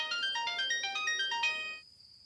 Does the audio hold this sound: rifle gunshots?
no